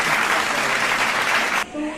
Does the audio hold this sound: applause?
yes